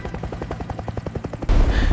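Indian Air Force Mi-35 attack and Mi-17 transport helicopters produce a rapid, rhythmic rotor thumping for about a second and a half, then a sudden louder rush of noise takes over.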